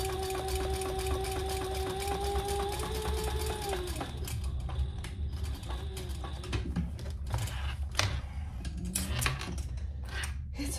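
A sewing machine backstitches a few stitches through the thick layers of a Dayna waist pack near its D-ring. A steady, close mechanical whir runs throughout, shifting in tone partway through.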